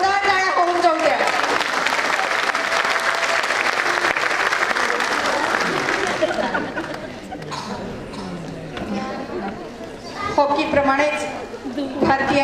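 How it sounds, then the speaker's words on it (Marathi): A school annual day crowd at a pre-primary school applauds loudly and steadily for several seconds, then chatter and a voice take over before another burst of cheering and clapping near the end. "जोरदार टाळ्या होऊन जाऊ द्या"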